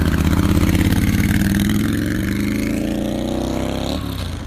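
A three-wheeler auto rickshaw passes close by in hilly traffic, its small engine droning loudly with a pulsing rattle that slowly fades as it moves on.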